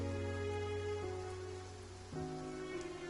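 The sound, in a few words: rain in video game Genshin Impact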